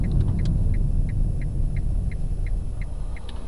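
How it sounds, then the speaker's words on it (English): Nissan Leaf turn indicator clicking inside the car, a regular series of about a dozen sharp ticks over a low road and cabin rumble. "It's just the clicking of the indicator you can hear."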